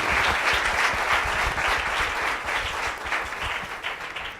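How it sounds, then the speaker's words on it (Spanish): Audience in an auditorium applauding a panel at a public talk, a dense sustained clapping from many hands throughout, fairly close and even in loudness. "Un aplauso para todo el panel."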